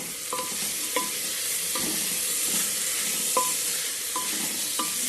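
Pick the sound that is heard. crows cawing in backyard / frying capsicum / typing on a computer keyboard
frying capsicum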